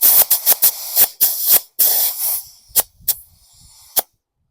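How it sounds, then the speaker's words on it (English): Compressed air goes into the inner tube of a Husqvarna garden lawn tractor tire in short, loud, close hissing bursts, first in quick succession and then in a few sparser blasts before falling silent. "give it a shot of compressed air."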